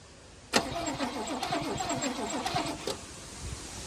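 An old V8 Toyota Hilux that has sat unused for years cranks and catches, then runs roughly with an uneven, rattly mechanical clatter, close and fairly loud for a few seconds before easing off.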